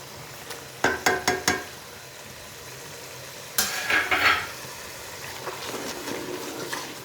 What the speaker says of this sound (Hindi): पाउडर मसाले को अच्छी तरह मिक्स कर लेते हैं।